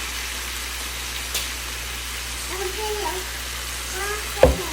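Potatoes and greens frying in a pan with mustard and poppy seeds, giving a steady soft sizzle throughout with a few small pops and faint scraping, capped by one brief louder clatter near the end.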